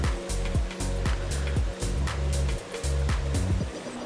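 Water swirled around a gold pan in a river makes repeated sloshing swooshes in a steady rhythm, close and fairly loud, with no one talking.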